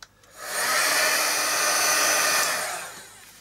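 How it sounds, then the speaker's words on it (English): A heat tool blows steadily to melt embossing powder on a mixed media art tag, a loud, even whooshing hiss that ramps up, holds for about two seconds and then winds down. "I'm going to heat that up till it's molten"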